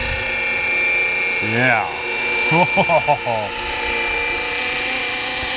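A large, costly beginner RC model helicopter flies outdoors in sunlight, its steady rotor whine holding under a brief spoken word. Clear pitch-sweeping tonal bursts rise and fall as it passes.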